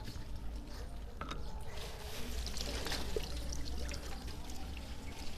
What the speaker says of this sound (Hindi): यहाँ पे अब हम बर्फ़ है हमारे पास और अच्छे से धोएंगे इसको।